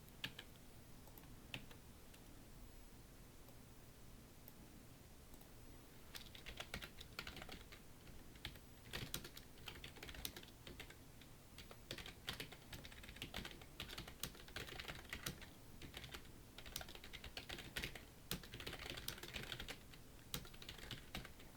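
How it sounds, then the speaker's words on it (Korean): Korean text is typed on a computer keyboard in steady bursts of soft, quick key clicks, fairly quiet and close, starting sparse and becoming denser after the first few seconds. "그리고 나서 한글을 입력하겠습니다."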